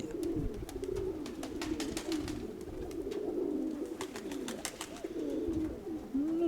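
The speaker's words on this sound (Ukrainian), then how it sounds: "дивлюсь голуби нормально, веселі, все добре" Pigeons coo continuously in a low, rolling murmur from a loft of Mykolaiv breed birds, several overlapping calls close by, with faint clicks and rustles scattered over the top and no talk.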